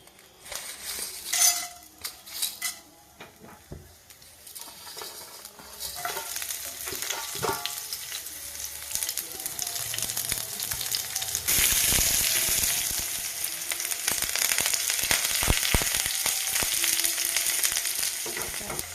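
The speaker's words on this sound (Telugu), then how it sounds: "ఉల్లిపాయ తాలింపు గింజలు ఒక ఎండుమిరపకాయ కరేపాకు ఆయిల్ పొయ్యి మీద ఉందండి" Oil sizzles on the stove as onion, seeds, a dried red chili and curry leaves fry in a tempering, with steady crackling that grows louder and denser, plus occasional stirring clinks of utensils against the pan.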